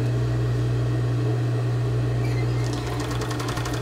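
Sewing machine stitching elastic in steady production sewing, a constant loud mechanical hum with a fast even rhythm, picking up sharper rapid ticking toward the end, no voices over it.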